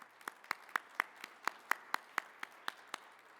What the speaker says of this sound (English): Let's give them another large round of applause so they can hear us on their computer screens.